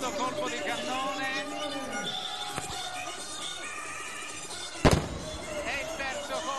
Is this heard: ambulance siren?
no